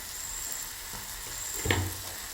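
Onion masala frying with chili powder in a pan for egg roast, a soft, steady sizzle up close, broken by one clear clink of a spoon against the pan.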